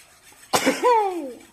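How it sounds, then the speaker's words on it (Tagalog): A single drawn-out crow starts sharply, then holds a rising-and-falling tone before fading, close by and alone. "Ayun ang tilaok."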